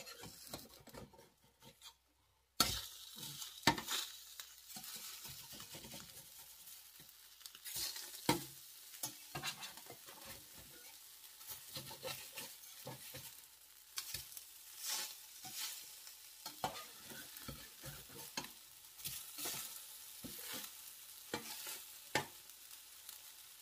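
Okoy fritters fry under the lid of a Saladmaster pan, producing a continuous crackling sizzle with irregular popping bursts throughout after a brief near-silent start.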